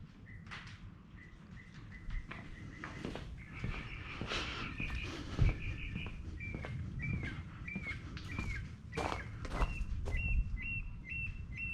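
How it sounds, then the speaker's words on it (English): Repeated short bird chirps and whistled notes in a steady series over a rumbling outdoor background, with a few louder scuffs and thumps. "Shut up, bird. No, you're beautiful. Keep singing."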